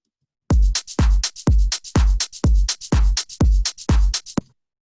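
A loud tech house drum loop with a punchy, booming kick on each beat and crisp percussion between, repeating in a tight, driving rhythm before cutting off.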